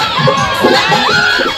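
A village crowd at a dance show cheers and shouts loudly, with children's high whoops and yells rising over a dense, continuous roar of voices.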